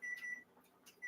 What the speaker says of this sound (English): It's a timer.